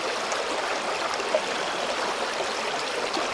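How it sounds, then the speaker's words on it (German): A flowing stream gives a steady, close, broadband rush of water that stays even throughout, with no voices. "Oh, ich liebe diesen Bach."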